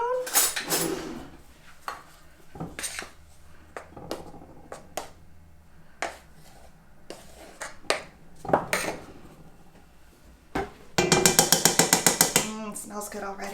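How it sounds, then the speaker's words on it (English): A spoon scrapes and clinks against a bowl while scooping cocoa powder for double chocolate muffins, with scattered taps and knocks, then a dense burst of rapid metallic clatter near the end. Talk comes and goes throughout. "I grab a spoon."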